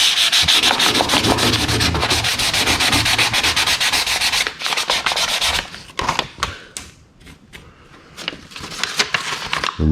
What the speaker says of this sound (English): Get a little water on here too, because I'm wet sanding.